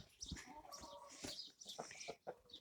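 A big rooster calls from close by on a small farm among fed chickens, a few short raspy crowing and clucking bursts breaking up the quiet, with a little background chirping and movement.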